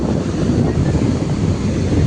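Sea waves washing up on a beach on the Gujarat coast near Somnath, a steady low roar of surf mixed with blustery wind buffeting the microphone, with no talking.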